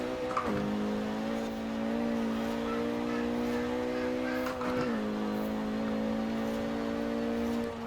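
A Renault Megane R26.R engine in Forza Horizon 4 drones at high, steady revs against the limiter, with two brief gear-shift dips and a sustained buzzing tone throughout.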